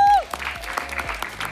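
Audience clapping for the Saltimbanks at a summer theatre show, a brief burst of applause that starts after a held tone cuts off, with separate claps audible at a moderate level.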